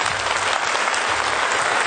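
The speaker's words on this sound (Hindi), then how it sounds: "ऐसे अपलाइन को भी एक शानदार ताली से स्वागत किया जाए।" An indoor audience gives a speaker a warm welcome with a dense, steady burst of clapping that stays loud throughout, with no voices over it.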